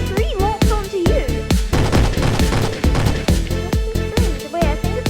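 Boat turrets in the Roblox-style game Build a Boat fire in rapid, evenly spaced bursts, a loud repeating volley of sharp shots close up with brief tonal game effects between them.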